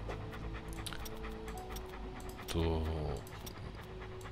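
Dog panting in the video game Hobo Tough Life, a steady rhythmic huffing under game ambience, rising louder for a moment midway, with someone talking over parts of it.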